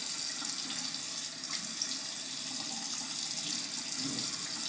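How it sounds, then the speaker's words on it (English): Warm water runs steadily from a faucet into a sink during a shave, a continuous soft hiss and splash with no talk over it. "So let's get some warm water on the face"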